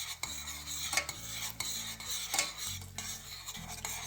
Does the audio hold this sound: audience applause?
no